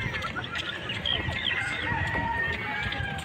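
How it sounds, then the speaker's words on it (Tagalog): Many chickens cluck steadily while a rooster crows beside a highway in Taytay in the morning, the birds close and continuous against a faint roadside hum. "Nasa highway kayo tapos ang daming manok."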